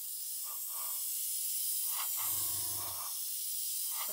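An airbrush sprays lacquer paint in a steady, close hiss that runs unbroken for about four seconds, with a few faint knocks and a low hum swelling in the middle.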